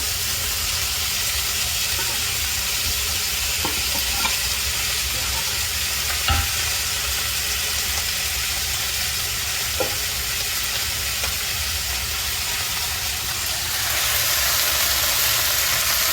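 Corned beef frying in a pan for a sautéed sayote (chayote) dish, giving a steady, close sizzling hiss with occasional scraping stir clicks, brightening slightly near the end.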